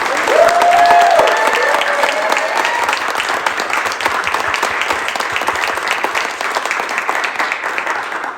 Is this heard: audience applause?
yes